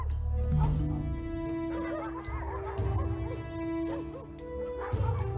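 Dogs bark and yip repeatedly at close range in the video game Solstice, their sharp calls layered over sustained background music.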